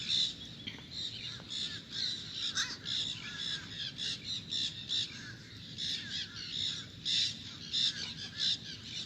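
Outdoors at Gulfport, Florida, birds keep up a steady chorus of harsh, crow-like caws and squawks, repeated in rapid overlapping bursts at moderate distance over soft background noise.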